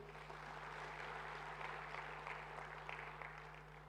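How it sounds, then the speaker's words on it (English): Steady, fairly faint applause from a conference audience at an East African Law Society annual meeting, a continuous wash of clapping lasting several seconds over a low electrical hum. "A round of applause, please, again."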